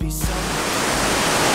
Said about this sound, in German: Der Wasserfall ist übrigens 180 Meter hoch